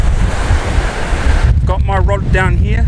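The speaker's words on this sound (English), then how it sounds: "The waves are breaking." Surf breaking on an open beach during surfcasting, with an outer sandbank and a gutter nearby, gives a steady, loud roar mixed with wind buffeting the microphone. Someone talks over it in the second half.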